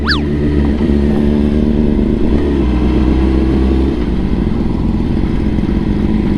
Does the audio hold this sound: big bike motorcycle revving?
yes